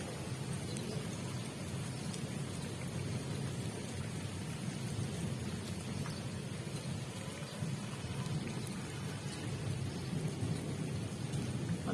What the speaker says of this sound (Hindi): अभी थोड़ी सी हल्की हुई है बारिश।